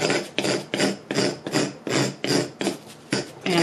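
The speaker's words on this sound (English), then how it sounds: "I'm just going to start scraping away the middle part to start getting something" Hand tool scraping out the hollow of a wooden spoon being carved, heard as close, rhythmic rasping strokes, about eight in under four seconds, each a short gritty scrape with brief gaps between.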